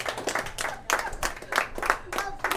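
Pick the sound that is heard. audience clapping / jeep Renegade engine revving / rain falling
audience clapping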